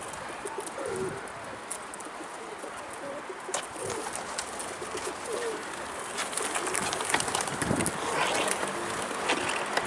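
Pigeons cooing in an evening loft setting, soft low repeated coos alongside scattered chirps and wing or movement noises, fairly close and steady throughout with no talk.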